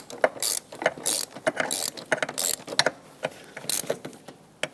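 Ratchet tightening the master cylinder nuts on a 2014–2021 Mazda 6, a close run of quick metallic clicking bursts in short uneven strokes with brief pauses, no voices.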